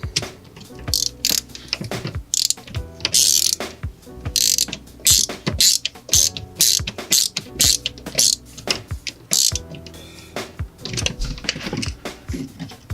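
A screwdriver tightens a terminal screw on the neutral wire of a GFCI outlet, giving repeated quick clicking and ratcheting ticks, close and fairly loud, with no talk over them.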